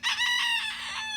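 A backyard chicken gives one brief, loud, harmonic call like a rooster's crow, close and alone, trailing off after about a second.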